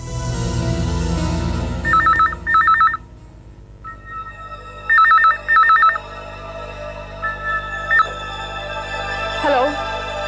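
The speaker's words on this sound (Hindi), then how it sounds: "फोन की घंटी बज रही है।" A telephone rings in short repeated double bursts, bright and clear over a low hum, followed by a few fainter beeps and a softer ring toward the end.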